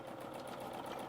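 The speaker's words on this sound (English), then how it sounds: "I'm going to draw directly with the needle of the sewing machine" A sewing machine stitches free machine embroidery with tightened top tension, giving a rapid, steady mechanical whir that runs continuously and fairly quietly with no pauses.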